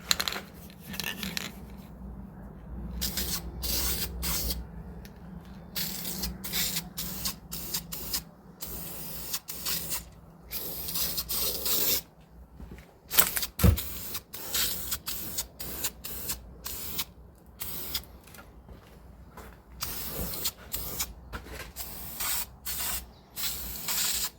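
An aerosol can of chassis paint hisses in repeated bursts of varying length, close by, with brief gaps between sprays and no talking.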